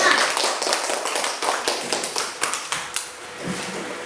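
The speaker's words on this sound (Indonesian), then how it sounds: "tepuk tangan untuk kelompok yang kedua" Schoolchildren in a classroom clapping for the second group, a burst of many hands applauding at once, loud at first, then settling into rhythmic, spaced claps that fade out near the end.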